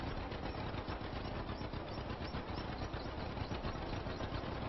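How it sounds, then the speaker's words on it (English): A vintage 1949-era farm tractor engine idles and runs steadily in the Farming Simulator 25 video game, a continuous buzzing, rattling drone at low level with no break or talk. "We're going to need a more powerful tractor for this job at some point, but at the minute this tractor will do it"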